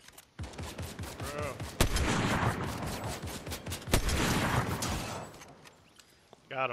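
A fast burst of video game gunfire, dense rapid shots running for several seconds with a couple of sharp louder cracks, mixed with players talking over the action.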